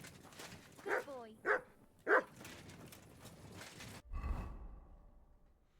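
A dog in Kingdom Come: Deliverance II gives three short, distinct barks about half a second apart, followed by a lower muffled rumble. Faint talk and background ambience run beneath.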